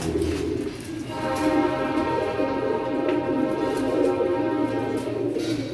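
Golden pigeons cooing in a steady, continuous low murmur that fills the space, several birds close by, with a faint higher tonal hum running underneath and no voices.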